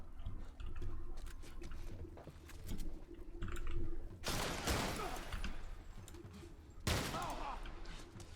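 Gunfire in the video game The Last of Us, with two loud bursts of shots standing out over quieter game sounds and clicking keys.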